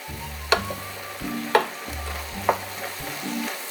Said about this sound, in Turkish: Böyle bir sotelemeye ayıracağınız bir 3-4 dakika sonucu çok olumlu etkiliyor.